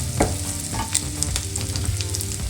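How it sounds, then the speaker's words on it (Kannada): Poppy seeds and spices fry in a pan for a Karnataka-style avarekalu gojju, with a close, steady sizzle and repeated scraping stir strokes and no voices. "ಸೊ ಇದನ್ನು ಕೂಡ ಹುರಿಯೋಣ ಇದರ ಜೊತೆಗೆ. ಎಲ್ಲದೂ ಫ್ರೈ ಆಗ್ತಾ ಹೋಗುತ್ತೆ."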